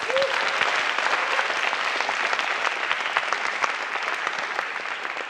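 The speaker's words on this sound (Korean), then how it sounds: "우리 중학생들에게 박수 한번 주십시오." An audience applauds middle school students at a Korean lecture event, with steady, dense clapping that fills the whole stretch at an even level.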